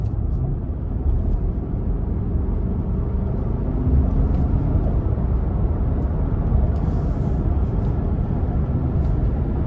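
A 2023 Nissan Armada SL 4WD drones steadily from inside the cabin as it is shifted by hand, a loud, even low rumble with road noise and no clear breaks between gears.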